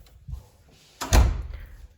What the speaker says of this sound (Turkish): Kapıyı kapatıyoruz.